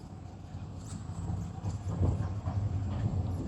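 Horses at a residential park in Sohna, Gurgaon, with faint, irregular hoof clip-clops over outdoor murmur and low rumble, growing slightly louder toward the end.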